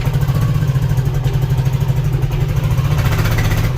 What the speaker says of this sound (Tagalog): Tapos iba yung tunog ng makina niya.